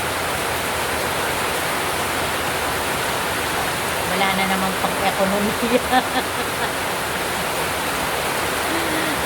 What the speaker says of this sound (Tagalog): Nalakas ng ulan, no guys.